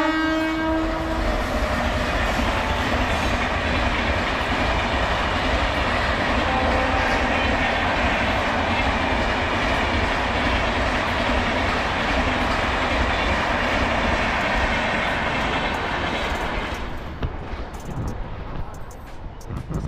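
A train runs through on the main line at Khadki railway station in Pune, a loud, continuous rumble and clatter of wagons with a horn near the start, steady for most of its length before fading away.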